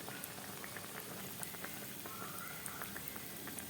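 Masal vadai made with chickpeas and meal maker frying in hot oil, a dense continuous sizzle with fine crackling pops, faint and close.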